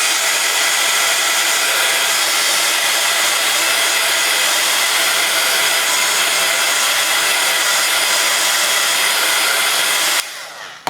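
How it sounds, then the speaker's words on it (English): A heat gun blows steadily on a die-cut craft card, a loud continuous broadband rushing roar for about ten seconds, then it cuts off abruptly near the end. "just going to grab my tool, my heat gun, and we're just going to quickly blast this"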